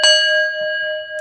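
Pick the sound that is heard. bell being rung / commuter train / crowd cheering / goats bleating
bell being rung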